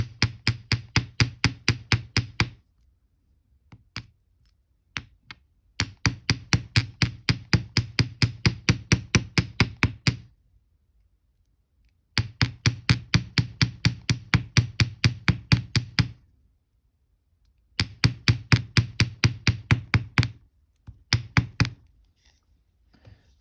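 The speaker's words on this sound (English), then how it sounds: "Now I'm going to use the ball peen part of my hammer." Rapid metallic ball peen hammer taps texturing a wire metal ring, in four bursts of steady rhythmic strikes, each burst lasting several seconds with short pauses between.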